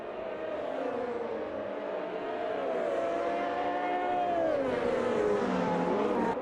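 A 1983 turbo Formula 1 race car in the AMS 2 racing game, its engine droning loud and steady with a rising, wavering pitch as it accelerates and shifts over several seconds, without any talk.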